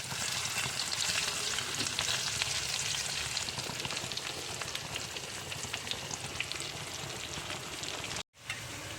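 Mackerel (ayila) fish frying in a pan, a dense steady sizzle with crackling spits that continues without pause for several seconds, with a brief dropout near the end and no talking.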